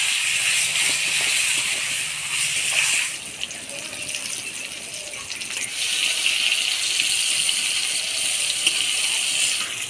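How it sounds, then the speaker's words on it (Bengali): Eggplant pieces fry in hot oil with turmeric and salt, a steady bright sizzle and hiss that drops briefly, then swells again, with faint utensil clinks and a voice speaking at times. "এবার এই তেলের মধ্যে বেগুনগুলো ভেজে নিব।"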